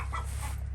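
Chickens clucking inside a winter coop, soft close murmuring clucks over a steady low hum.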